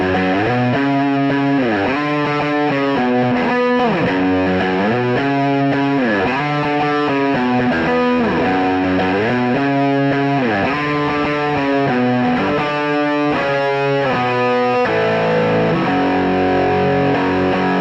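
Novo Serus J electric guitar with Fralin P90 pickups played through heavy distortion, a dense, continuous riff of bending, sustained notes with a dark tone, loud and unbroken throughout with no talking.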